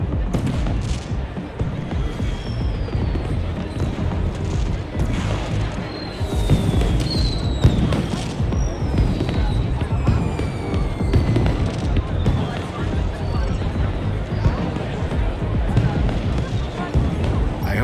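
A holographic fireworks display in the video game Beyond a Steel Sky crackles and pops continuously, with dense bursts and rising whistles layered over a rumbling background throughout.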